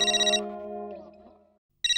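A phone rings for an incoming call in a Hindi TV sitcom. A bright electronic ringtone melody plays, trails off into silence, then starts again, loud and close.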